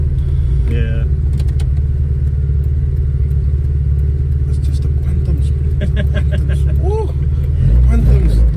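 A Datsun car engine rumbles loudly and steadily from close by, a deep continuous roar inside or beside the car, with people talking over it.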